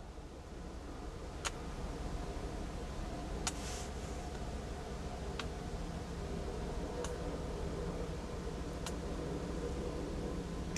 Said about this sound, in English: that's a boat, one of the big ships going by actually